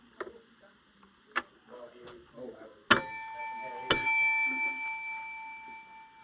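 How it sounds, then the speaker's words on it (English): A bell rings twice in an office setting, two bright, sharp strikes about a second apart, each followed by a long sustained metallic ring, after a few faint earlier taps and light background talk. "I heard the bell ringing over here."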